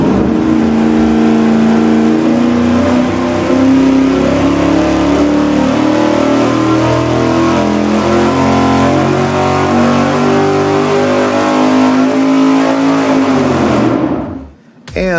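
A big-displacement V8 on an engine dyno, fitted with an open carburetor spacer, roars under heavy load for about fourteen seconds at a loud, steady pitch before cutting off abruptly near the end.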